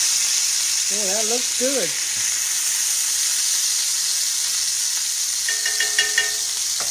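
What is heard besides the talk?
hamburger steak frying in a pan after being turned over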